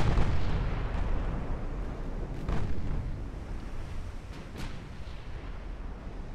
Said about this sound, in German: Können hier gleich schon dicke Breitseiten schießen.